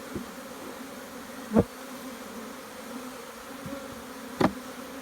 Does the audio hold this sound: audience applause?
no